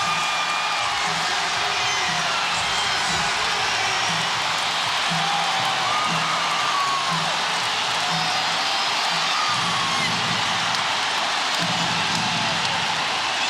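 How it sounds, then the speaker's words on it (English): A packed basketball arena crowd roars steadily through the 2003 NBA Finals Game 6 between the San Antonio Spurs and New Jersey Nets, a dense, continuous wash of cheering at full volume. "Jason Kidd tries to quiet the crowd"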